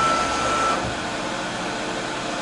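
50-watt K40-style laser cutter running its motors at high speed, a loud steady mechanical whir and hiss close by, with a brief high whine at the start that drops away, and no talking.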